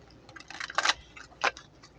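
A deck of tarot cards being shuffled by hand, a quiet series of soft riffling flutters and taps in two short bursts, close and faint with no talk.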